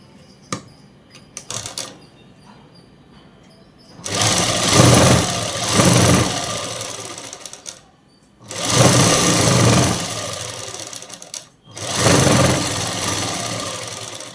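A sewing machine stitching the folded hem of a dress, running in three sustained bursts of fast, even whirring separated by pauses with a few faint clicks.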